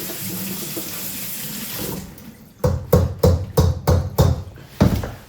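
Tap water runs into a kitchen sink while Brussels sprouts are rinsed under it, a steady close splashing that turns choppy and bursty midway as the sprouts are moved through the stream.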